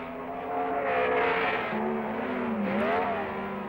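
Formula One race cars of the Grand Prix era roar past in a loud, sustained engine drone whose pitch rises and falls as the cars approach and recede, with no talk.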